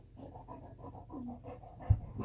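A dog pants steadily at close range while a Halloween costume is put on, with rhythmic quick breaths and a brief thump near the end.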